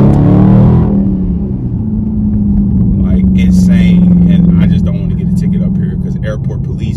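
A 2021 Dodge Charger Scat Pack with its mid muffler deleted gives a loud, deep exhaust rumble that swells at the start and then settles into a steady low drone, with people talking over it.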